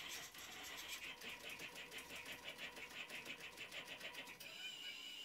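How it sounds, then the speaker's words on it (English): A homemade CNC machine built from DIY-store materials plots a test pattern of concentric circles and angled lines, giving off a faint, steady mechanical whir with a regular pulsing rhythm. "With sending the start command, the machine begins to plot the file."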